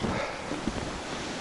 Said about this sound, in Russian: Там нереально как штормит, блин.